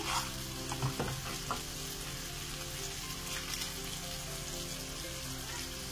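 Biryani masala with turmeric, salt, chilli powder and sugar frying in a pan for egg biryani, a dense, even sizzle with a couple of stirring knocks near the start, faint and without talk.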